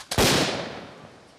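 A training grenade goes off during a tactical drill: one sharp, loud blast that cracks close by and then trails away in a rumbling decay.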